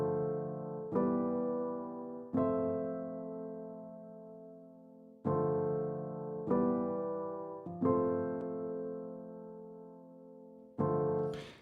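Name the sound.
piano loop playing without reverb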